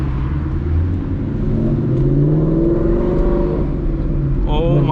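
Supercharged Ford Mustang GT rumbling low while pulling away, its exhaust giving off pops and crackles under a steady engine drone, with a person talking briefly near the end.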